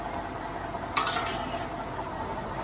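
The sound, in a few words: stirring and mixing dal cooking in a pan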